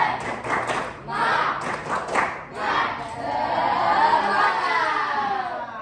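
A school class performs a rhythmic spirit-cheer clap, several sharp, patterned bursts of group clapping with pauses, then dissolving into loud excited shouting and chatter from the children.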